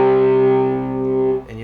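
An electric guitar power chord played through an amplifier on a classic crunch setting rings out with a sustained distorted tone, alone and fairly loud, then is cut short near the end.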